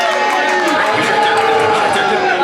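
Crowd at a lively party event cheering and applauding loudly, a dense continuous roar of claps and shouts filling the whole stretch.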